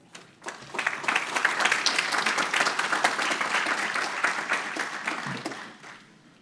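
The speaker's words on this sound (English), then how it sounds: "Ladies and gentlemen, please give her a warm round of applause." A luncheon audience at an executive event breaks into a warm round of applause, building quickly into dense, even clapping that holds for several seconds before tapering off.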